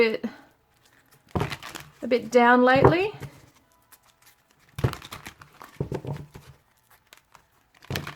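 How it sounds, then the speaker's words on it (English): Someone shuffles an oversized deck of tarot cards, producing short papery riffling bursts between stretches of soft spoken narration. "These are hard to shuffle, these ones. They're so bloody massive."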